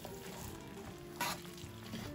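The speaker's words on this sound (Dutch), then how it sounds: "Die diepvries doperwtjes die hoeven alleen maar eventjes meegewarmd te worden." Frozen peas warm in a paella pan with chorizo, chicken and prawns, a quiet steady sizzle with a brief louder burst of frying partway through.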